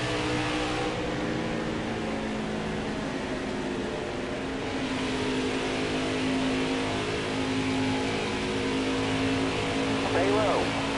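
A race car engine droning at Pocono in a racing video game, a steady held hum at part throttle with a faint tonal whine, under continuous talk from a player.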